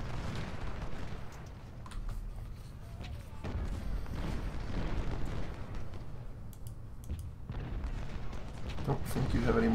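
Cannon and artillery fire from the Civil War battle game Ultimate General: Civil War booms in repeated heavy bursts with rumbling low tails, mixed with a busy battle din throughout.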